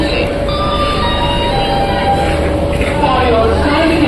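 The Garib Rath Special Express pulls out of Bareilly railway station with a steady rolling rumble and faint wheel squeal, and a person talks over it throughout.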